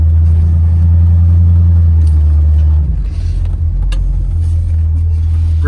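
A 1974 Chevrolet Corvette drives along with a loud, close low engine rumble that eases slightly partway through, continuous road noise around it.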